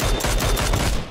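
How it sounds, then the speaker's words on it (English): Rapid gunfire in the video game PUBG, a quick burst of several loud shots packed close together over about a second, with no talk over it. "I shot him fucking 6 times."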